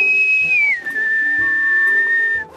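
A person whistles a single sustained note that slides downward then holds steady for about two seconds, close and clear with light background clatter.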